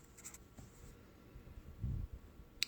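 Hand-writing of numbers on a board or paper during a degrees-minutes-seconds math lesson: soft, faint scratching strokes in a quiet room, with a few short marks near the end.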